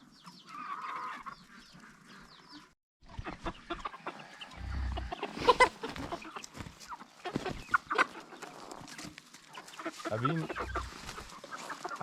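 Chickens on a winter homestead clucking and murmuring at close range, with scattered soft calls and shuffling movement throughout, plus occasional low thumps and faint voices.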